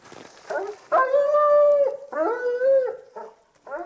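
An impatient mantrailing tracking dog whines and howls close by in several drawn-out, rising and falling cries with short breaks between them.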